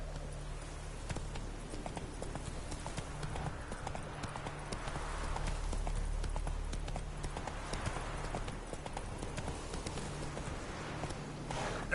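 Hooves of Roach, a horse in The Witcher 3, beat out a steady, rapid clip-clop across the whole stretch at a moderate level over a low ambient bed.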